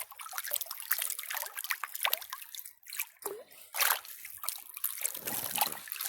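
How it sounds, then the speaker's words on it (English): Gravel is panned in water, with close trickling, sloshing and splashing in uneven surges and brief pauses between swirls. "Pan this out."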